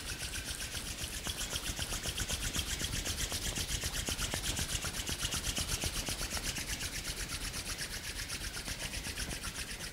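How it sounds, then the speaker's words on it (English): Palms rub briskly together to warm them during a home yoga class, a steady close swishing friction that repeats in a fast, even rhythm with no talking. "Release your hands and rub your palms each other."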